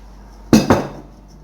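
A baked Tunisian tajine being unmoulded from its dish gives two sharp clinks of dish and utensil, close and a fraction of a second apart, over a quiet background.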